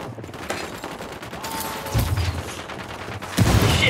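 Gunfire rattles in a firefight in the video game Ghost Recon Wildlands, with repeated bursts of automatic shots and heavier booming hits that swell louder toward the end.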